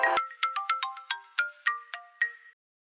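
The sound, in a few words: mobile phone ringtone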